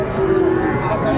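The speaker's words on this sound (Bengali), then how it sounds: "দর্শক শুনছিলেন এখানে চমৎকার চমৎকার শাহিওয়ালের ষাঁড় বাচ্চা" A young Sahiwal bull calf, about three and a half months old, lets out a single sustained moo, loud and close, filling the short moment.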